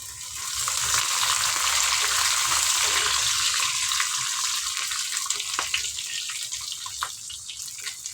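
Curry leaves dropped into hot oil for tamarind rice, a bright steady sizzle and crackle, loudest early and easing slightly, with occasional stirring clicks.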